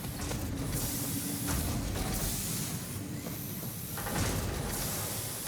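Factory constructors in Satisfactory produce rods and screws, a continuous mechanical whir and hiss with rhythmic clanking and sliding pulses repeating about every second, loud and steady with no talking.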